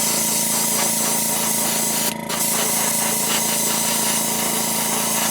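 Airbrush spraying Createx opaque white base coat, a steady close hiss that runs throughout with one brief break, no voices.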